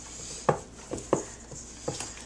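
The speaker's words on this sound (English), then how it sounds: "keep with the stirring" Taco dough being stirred by hand, a series of soft thuds and patting knocks at an uneven, unhurried rhythm, close and moderately loud against a quiet kitchen background, with no talking.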